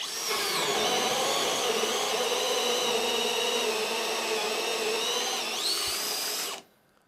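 A Bosch GSB 18V-65 cordless drill bores deeper into a hole after its pilot bit, giving a loud, steady, high motor whine that holds for about six seconds, dips briefly near the end, then cuts off abruptly into silence.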